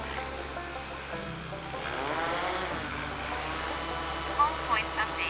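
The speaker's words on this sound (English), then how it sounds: "let's put the aircraft up in the air" A drone lifting off at an airfield, its rotors spinning up into a rising whine that settles into a steady, loud buzzing hum over outdoor background noise.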